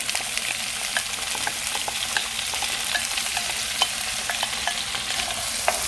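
Peas and corn sautéing in a hot pan, a steady dense sizzle with small crackles and faint spoon taps, close up and with no voices.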